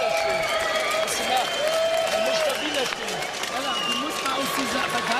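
A crowd of 14,000 at a boxing arena cheers and applauds in a steady, busy wash of noise, with a commentator's voice running over it.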